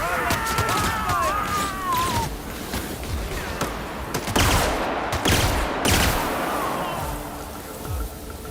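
Dense gunfire in The Outer Worlds during a prison riot, rapid overlapping shots and bursts in a loud, continuous barrage, with a few louder cracks standing out.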